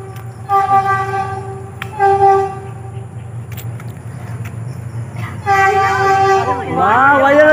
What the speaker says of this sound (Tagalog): Wow, nandiyan na yung train.